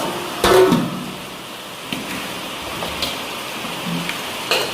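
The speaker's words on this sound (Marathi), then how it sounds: "पाऊस चालू झाला आणि खेकडं बाहेर आली बघा." Rain falling in a village setting, a steady, soft wash of drops with occasional hard knocks and taps nearby.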